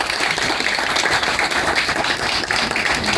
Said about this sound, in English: So another big round for Andy.